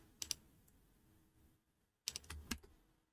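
Typing on a computer keyboard: two short bursts of a few crisp key clicks about two seconds apart, faint and close, with near silence between them and no talk.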